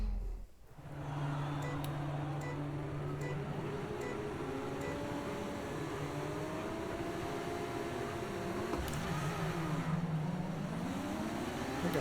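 F2 race cars launching off the grid at Sakhir in Bahrain in the F1 25 racing game, engine tones rising and shifting through gears in a continuous dense roar with tyre noise, no voices.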